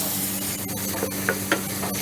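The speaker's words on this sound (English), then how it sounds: "They'll melt very easily with that garlic. Just sort of stir them around a few times." Anchovy fillets and garlic sizzling in a pan, a dense continuous frying hiss with a few soft spoon scrapes and taps as they are stirred and broken up.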